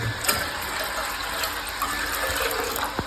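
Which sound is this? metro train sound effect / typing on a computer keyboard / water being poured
water being poured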